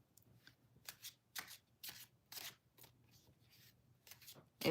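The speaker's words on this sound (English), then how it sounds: "I feel like I need to shuffle one more time." Tarot cards being shuffled in several quick riffled bursts with short pauses between, close and crisp, ending in a louder clatter.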